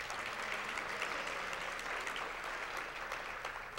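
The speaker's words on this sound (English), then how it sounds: "Let's give her a big round of applause." Applause fills a Hall of Fame ceremony hall, a dense, even clapping from a large crowd sustained throughout without pause.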